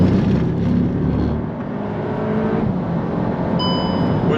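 A modified MK8 Golf R on Bilstein Evo S coilovers with new wheels and tyres accelerates hard around a race track, its engine droning loud and steady from inside the cabin, with a high whine rising near the end.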